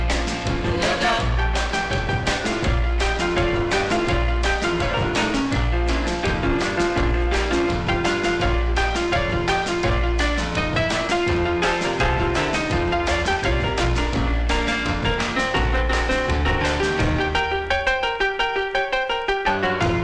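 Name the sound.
1963 soul record Whenever by Irma Thomas on the Brandy label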